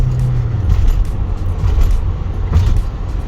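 A 2013 Nissan Primastar 2.0 TD van with an automatic gearbox accelerates uphill, its engine a loud, steady low rumble with road noise, heard from inside the cab.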